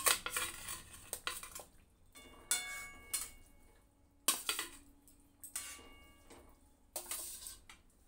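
Pre-fried fish pieces being added one by one to a cooking pot with potatoes: intermittent close clinks and clatters of utensil against metal pot, separated by quiet gaps, with a faint bubbling underneath.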